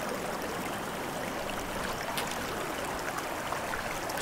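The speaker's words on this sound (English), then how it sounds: "Get a drink of water." A steady, close rush of flowing stream water runs unbroken in a Sons of the Forest forest scene, with a faint extra splash near the middle.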